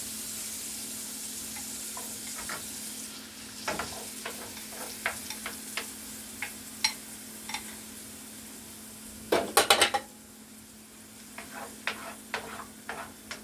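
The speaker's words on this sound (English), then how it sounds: "Scramble those eggs" Eggs scrambled in a hot pan, a steady soft sizzle under scattered scrapes and taps of a utensil against the pan, with a brief flurry of clatter midway.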